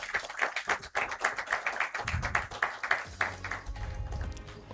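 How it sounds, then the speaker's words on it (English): Audience at a graduation ceremony claps as dignitaries take their seats, a fairly close, rhythmic run of hand claps that grows looser and mixes with low shuffling and murmuring toward the end. "give our dignitaries a warm, loud round of applause to take their seats"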